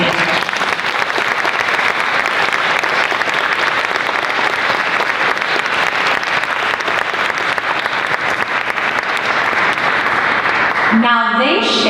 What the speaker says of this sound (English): give me one more round of applause for these amazing interns